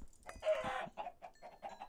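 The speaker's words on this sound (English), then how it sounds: "We're going to kill all these chickens." Chickens cluck in Minecraft, a short burst of close, busy game-animal clucking followed by a few quieter clucks, with no talk over them.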